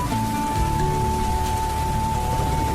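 Steady rain pours at a village bus stop, a dense, even wash of drops with a faint constant tone running through it and no break.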